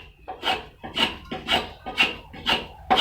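A handmade Chinese-style spokeshave shaves wood in six evenly spaced, rasping strokes, each about half a second apart, close and crisp with no talking.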